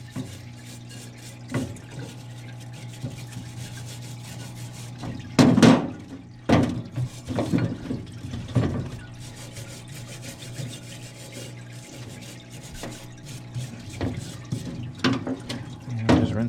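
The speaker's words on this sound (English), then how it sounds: "And just rinse that off." Water runs from a hose or tap to rinse off Honda Odyssey rear brake parts, a steady close flow broken by louder splashing bursts and clunks of handled metal.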